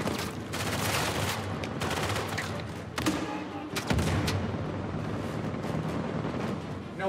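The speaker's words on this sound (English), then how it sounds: "People wanted to see the nade launcher in action." Grenade launcher fire in the Uncharted 4: A Thief's End action game, a dense, loud barrage of blasts and thumps with heavier booms near the middle, over continuous combat noise.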